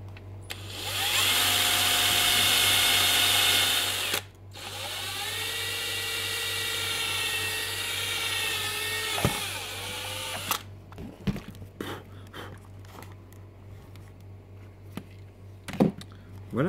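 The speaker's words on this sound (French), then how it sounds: "maintenant j'ai plus qu'à percer mon trou à côté, à la perceuse, pour mettre le petit poussoir" Electric drill boring a hole in a plastic voltmeter box, a loud whining run of about three seconds, then a lower, steadier drilling pass that winds down, followed by quieter handling clicks and knocks.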